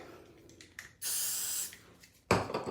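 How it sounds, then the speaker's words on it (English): Two short bursts of aerosol wig adhesive spray hiss close by, the first lasting under a second and the second starting just after a brief pause. "I will spray a bottom layer there."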